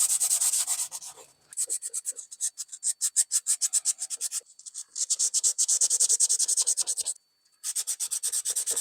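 Knife blade being hand-sanded through progressively finer grits, quick rhythmic back-and-forth rasping strokes in several bursts with brief pauses between them, close and clear.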